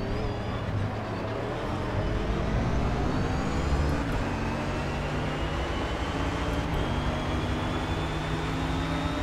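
Engine of a Mercedes AMG SLS GT3 race car in Project Cars, roaring loud and continuous with rising and falling revs through gear changes, carrying on alone without talk.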